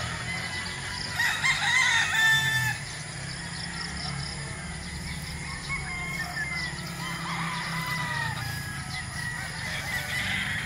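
Chickens cluck and a rooster crows amid a busy gamefarm chorus with many pullets, honking birds mixed in, fairly distant and steady throughout.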